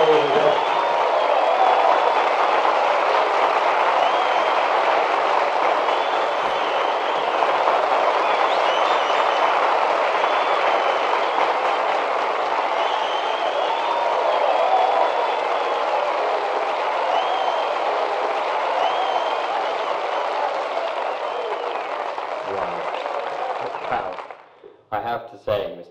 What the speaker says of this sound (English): I have to say, Mr. Dean, I have never heard a reaction quite like that before on the show